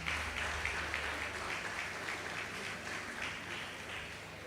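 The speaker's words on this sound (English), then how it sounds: "I think, again, they deserve a round of applause," Applause from the audience at a book party for a literary prize longlist, a steady dense wash of clapping that holds evenly for several seconds without voices over it.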